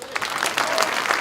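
Audience at a political rally applauding, a brief burst of dense clapping that stays steady and fairly loud throughout.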